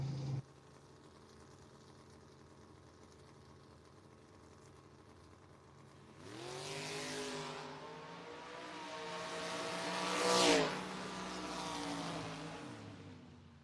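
Drag race cars, a Chevrolet Camaro and a Mercury Caprice, launch at a drag strip: after a quiet idle, two engines burst into a loud, rising roar that climbs in pitch, peaks sharply, and then holds near the end.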